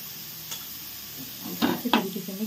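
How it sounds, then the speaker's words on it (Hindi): A spoon stirs paneer bhurji in a pan after salt goes in, giving a few soft scraping strokes near the end over a faint steady hiss, quiet and close. "अच्छी तरीके से चला चला के इसको बनाएंगे हम लोग।"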